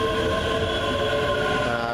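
Class 305 electric multiple units 305030 and 305029 depart towards Glasgow Central on a Strathclyde line, a close, loud, steady rolling rumble with a sustained electric whine.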